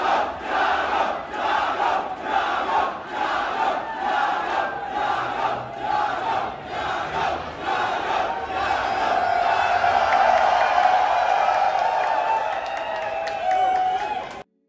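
Crowd at an anime expo cosplay event cheering and shouting in loud rhythmic bursts, building into a sustained roar of voices and yells, fairly close and dense.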